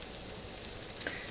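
Chicharron bread with cheese sizzles in a hot pan on high heat with a soft, steady crackle, heard close and fairly quiet with no talking.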